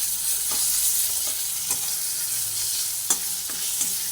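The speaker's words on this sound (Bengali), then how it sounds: "ভালোভাবে নাড়াচাড়া করে এটা ভেজে নিচ্ছি" Ginger and whole green chillies are stir-fried in a hot pan with oil, giving a steady close sizzle with a few soft scrapes of the spoon as they are turned. No one speaks.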